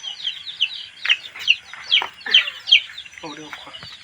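Several Sonali chickens cluck close by in a quick series of sharp calls, with faint background movement and no talking.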